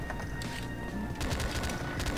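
Machine gun fire in the Slendytubbies 3 video game, a rapid dense burst of rattling shots that grows louder in the second half, over continuous game noise, with no talking.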